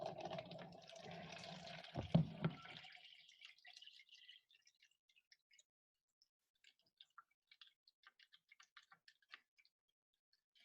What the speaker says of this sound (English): I'm going to let that keep raining as I get the next one ready.